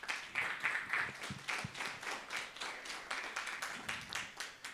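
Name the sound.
congregation applauding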